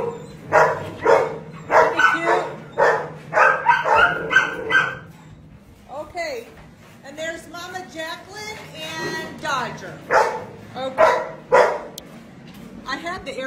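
Dogs at a Texas animal shelter bark loudly in repeated bursts, with yips and whines mixed in and a second round of barking later on, while a person talks between the barks.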